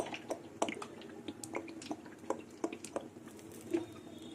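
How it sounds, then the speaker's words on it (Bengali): Cooking oil poured into a kadai for frying rohu fish, giving soft, faint drips and liquid spatters in an uneven patter with no voices. "এবার কড়াইতে আবার তেল দিয়ে দেবো"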